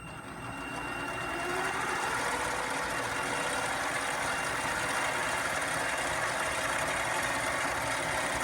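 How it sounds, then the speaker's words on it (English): A lathe is switched back on and spins up over the first second or two into a steady, continuous mechanical whir and hum that holds even and close without any talking. "close it, turn the lathe back on, start it up"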